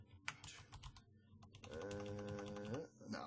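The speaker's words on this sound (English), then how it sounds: "my keyboard is now in front of my mic, so you might hear more keyboard clicking" A computer keyboard sits right in front of a microphone, giving quick, faint clicks and taps in irregular bursts. A sustained tonal sound runs through the middle stretch.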